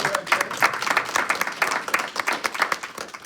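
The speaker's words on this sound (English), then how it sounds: "give her a round of applause" A short round of audience applause at a school board of education meeting, many hands clapping in a brisk, moderately loud burst that carries on steadily for a few seconds without talk.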